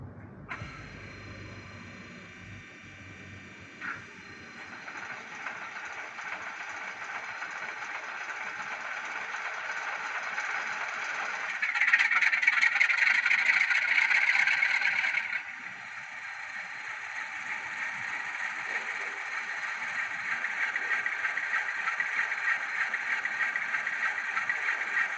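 Graham Farish Class 47/4 N-gauge model diesel locomotive with DCC sound performing a cold engine start, a steady droning engine hum that swells louder midway, then settles into a continuous idle rumble, with no talking.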